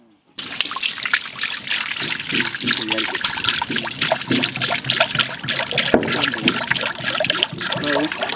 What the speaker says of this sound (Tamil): இப்போ கடாய் சூடாயிடுச்சுன்னா நாங்கள் வந்து எண்ணெய் ஊற்ற போகிறோம்